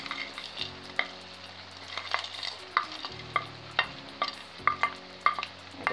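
Frozen mixed seafood and squid sauté in a paella pan with chicken, a continuous crackling sizzle broken by repeated scraping stirs every half second or so, close and fairly loud, over a low hum.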